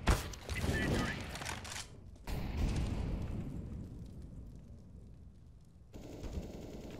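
A grenade blast and heavy gunfire in Counter-Strike on a Faceit match: loud bursts up front, then a sudden cut to a rolling, fading roar before another loud passage begins.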